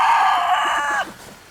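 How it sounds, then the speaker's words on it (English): A Kelso rooster, a gamecock, crows one loud, sustained call close by that breaks off sharply near the end, with no talk over it. "That's a Kelso rooster"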